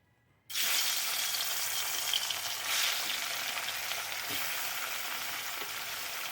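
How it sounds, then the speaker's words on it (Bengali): Fish coated with coriander leaves hits hot refined oil after a brief silence. A loud, sudden burst of sizzling settles into steady, close frying hiss that continues to the end. "সবার আগে আমি ধনেপাতার মাছটা ভেজে নেব।"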